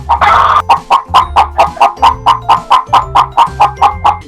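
A hen clucks in a steady, evenly spaced series of sharp, loud calls close to the microphone, opening with a longer squawk.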